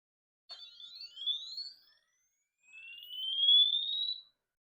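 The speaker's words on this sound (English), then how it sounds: "Let's hear a 400 Hz to 4 kHz sweep." Two thin electronic tones from a small piezo buzzer, each sweeping steadily upward from 400 Hz to 4 kHz, the second longer and a bit louder, with silence between them.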